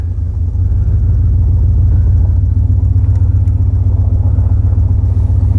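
A GMT400 Chevy truck creeping slowly at full steering lock: a steady, loud, close low engine idle rumble with an even pulsing throb and no abrupt noises, held without pause.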